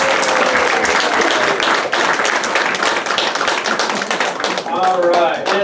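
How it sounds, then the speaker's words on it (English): An adult Bible class gives a round of applause, dense close clapping from a small group that fills the room, fading slightly near the end as voices begin to come through. "Hey, let's give a round of applause."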